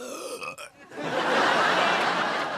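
A single burp from a girl near the start, short and close, followed by a longer burst of laughter and noisy reaction in a sitcom scene.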